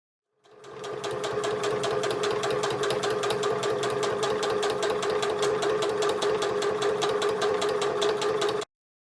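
A sewing machine stitches a fabric handbag in one continuous, loud, fast mechanical run of rapid even needle clatter, starting and stopping abruptly, with no voices.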